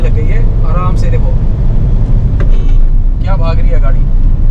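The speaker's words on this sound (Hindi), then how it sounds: "मैंने तीसरे गियर में जैसे ही पेडल पे पैर रखा तो गाड़ी बिल्कुल हवा से बातें करने लग गई है" Force Urbania van accelerating hard in third gear, its steady loud engine and road roar continuous throughout, with someone talking over it in the cabin.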